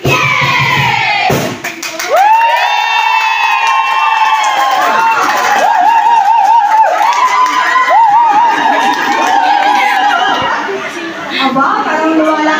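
A large crowd of students cheers and shouts continuously at a school sports fest, loud and close, with sustained high-pitched yelling and chanting that swells and holds, briefly dipping before rising again.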